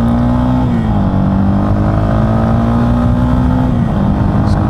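A Yamaha XT250 motorcycle accelerates on a road approaching a steep hill, its engine a loud, close, continuous drone with small shifts in pitch and no talking.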